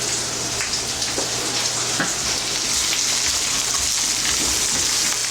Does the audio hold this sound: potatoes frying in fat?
yes